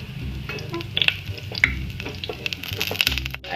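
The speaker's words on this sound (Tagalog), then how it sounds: "Meanwhile, and syempre naman ato nagigisa ang ahos." Chopped garlic sautés in a hot pan, a close, steady sizzle and crackle with occasional sharp pops and stirring scrapes, with no talk over it.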